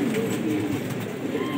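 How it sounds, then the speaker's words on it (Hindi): Pigeons on a rooftop coo softly in a low, repeated throaty burble, close but faint over a light background hum, with no talk. "इसे आपको जायद भाई की छत पे मिलेंगे ऐसे कबूतर"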